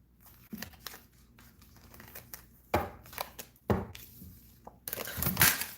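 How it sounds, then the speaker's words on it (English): Tarot cards are shuffled by hand at close range in irregular bursts of papery riffling, slapping and crinkling, louder toward the end, with no talking. "Just let me shuffle my cards here."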